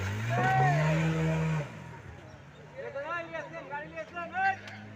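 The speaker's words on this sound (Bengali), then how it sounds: "তো একটি মোটর সাইকেল বুকের উপর দিয়ে পার করা হলো" At an outdoor show on a high school field, a motorcycle engine revs and drones for a moment as it is ridden over a man's chest, then fades under loud announcer talk and crowd noise.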